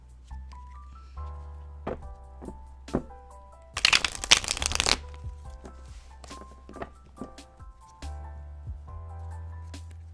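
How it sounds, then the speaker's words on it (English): Crisp riffling bursts of tarot cards being shuffled, close up, with one longer dense shuffle in the middle and soft taps around it, over a low steady hum. "Got some card shuffling ASMR."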